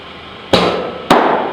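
Two sharp leather smacks of a baseball landing in an All-Star Equalizer training mitt, about half a second apart, each with a short fading tail, fairly close and loud, with no talk over them.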